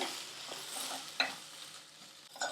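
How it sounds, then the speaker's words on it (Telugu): Tomato ketchup gets stirred into chapati egg noodles in a pan, with quiet scraping strokes and a soft sizzle that rise in a few short bursts. "ఒక one tea spoon tomato ketchup వేసుకొని మంచిగా కలుపుకోవాలి"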